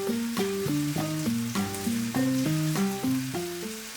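Chives sautéing in a pan for a stuffed pork loin dish give a steady, continuous sizzle, heard beneath a looping melodic music track.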